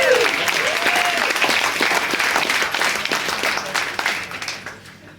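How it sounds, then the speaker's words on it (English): Wedding guests at a reception applaud during a best man's speech with a full burst of clapping and some crowd murmur, which holds strong and then thins out toward the end. "Give yourselves a round of applause."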